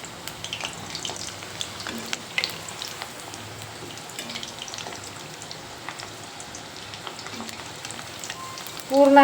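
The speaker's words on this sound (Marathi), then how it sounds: "भाजणार आहे कापण्या. हे पहा मंडळी, कापण्या आपल्या एका साईडने लाल झाल्या आहेत." Crispy wheat kapnya fry in a pan as they are turned over, a soft, steady sizzle with occasional light scrapes and clicks, fairly quiet, with a brief louder clatter at the end.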